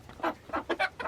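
Chickens clucking close by in a frozen winter chicken coop, a quick run of four or five short clucks with no talk.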